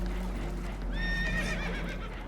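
In the video game Red Dead Redemption 2, a horse on a boat gives a loud, shrill whinny over a steady low rumble of engine or water, with faint clopping beneath.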